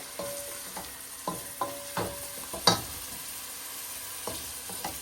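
Peppers and green onions mixed in a frying pan, with soft sizzling under several distinct scraping and clinking strokes of a spoon against the pan, quiet and close, with no talking.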